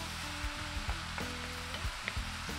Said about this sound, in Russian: тушим пару минут.